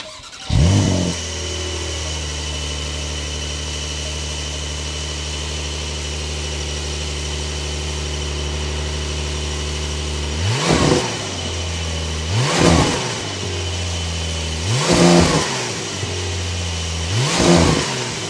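A 2026 Porsche 911 Carrera 4S engine with sport exhaust starts and settles into a steady idle, then is revved sharply four times, each rev rising and falling with a deep exhaust roar.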